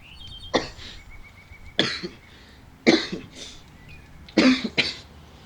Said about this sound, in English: Why do you always have that cough?